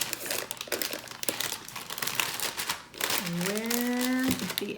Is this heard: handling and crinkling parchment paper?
yes